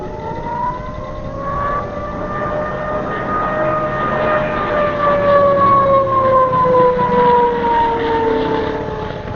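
Radio-controlled Ju 87 Stuka model plane's dive siren pitched down, a lower, loud sustained wail gliding gently downward over engine rumble, heard alone without talk.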